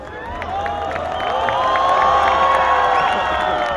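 Loud crowd cheering and whooping at the 2015 YCO closing ceremony, a dense sustained roar of many voices that swells toward the middle and stays strong to the end.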